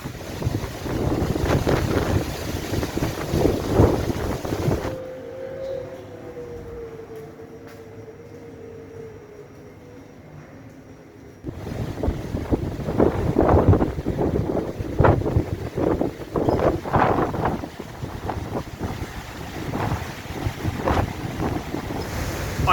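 Strong wind gusts roar across a microphone at a Spanish holiday resort, loud and buffeting, easing to a quieter lull partway through before the blasting resumes.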